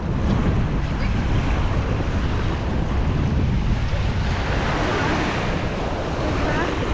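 Surf rolls steadily onto a beach at Agno, Pangasinan, a loud continuous wash of breaking waves with wind buffeting the microphone throughout.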